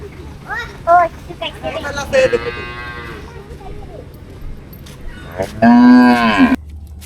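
Newly bought cows and calves on a small farm moo loudly and close, two long bellowing calls separated by shorter lows, with people talking in between.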